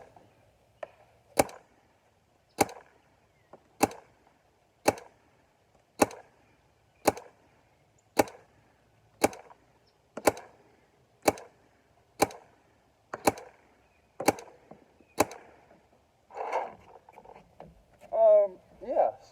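An EMEK paintball marker fires about fifteen evenly spaced single shots at a cardboard box, each a sharp, loud crack with a short decay, followed by a few seconds of handling noise.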